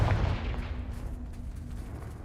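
A single deep blast from a Bombarda or Confringo spell in the Hogwarts Legacy game hits at the start and then rumbles off into a low, fading tail.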